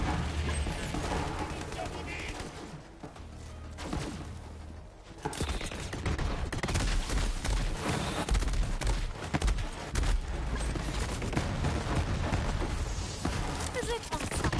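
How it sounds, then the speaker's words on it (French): Dense gunfire and explosions fill a chaotic firefight in Borderlands 3, with a pistol in play amid constant loud shots and game noise, while a voice talks over the action. "c'est le moment de tester le pistolet les gars"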